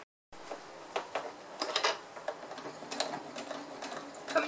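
A sewing machine stitches the corners of a small fabric drawstring pouch with its lining, a close, rapid mechanical chatter that runs in short bursts after a quiet start, with no talking.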